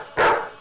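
A dog gives a single sharp, loud bark up close, heard alone and cut off quickly.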